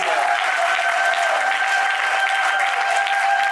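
A seated crowd at a civil wedding ceremony in Gabon gives steady, dense applause that stays full and even throughout, with no talking over it.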